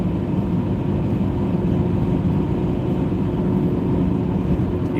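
A car engine strains under load and gathers speed sluggishly, a dense, steady low rumble that barely climbs. It sounds muffled, as if heard from inside the vehicle, and there is no talk.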